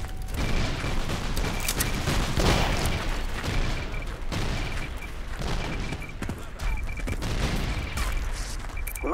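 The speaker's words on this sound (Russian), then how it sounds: "Кидаю гранату!" Grenade blasts and gunfire in the WWI shooter Verdun, a dense continuous battle din of rattling shots and booms throughout, loud and steady with no clear pauses.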